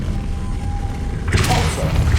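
Incendio fire spell cast in Hogwarts Legacy: quiet game ambience gives way to a sudden loud whooshing, crackling burst of flame that keeps roaring to the end.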